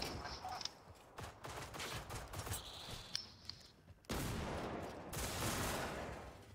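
Video game gunfire crackles in rapid sharp bursts, fairly quiet overall, with a denser volley near the end and faint background game sounds.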